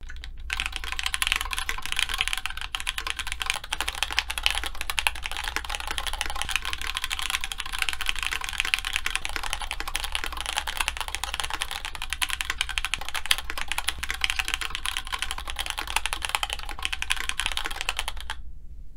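Rapid, continuous typing on a Grid600 mechanical keyboard dampened with a larger felt insert, a dense, even stream of deep muted keystrokes heard up close with no voices.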